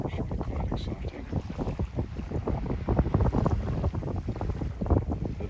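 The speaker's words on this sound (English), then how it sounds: "We're chugging along about 4 knots." A sailing yacht glides slowly through the water at about four knots on a light-wind day in the Gulf of Fethiye, with continuous splashing and lapping water and gusty wind buffeting close by.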